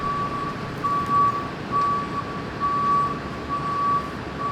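A high-pitched beep repeats in uneven bursts over a low rumbling engine, like a vehicle's reversing alarm, with no voices.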